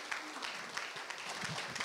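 Scattered applause from a small academic seminar audience thanking the researchers, a steady patter of clapping at low volume that fills the short moment, with a faint murmur underneath.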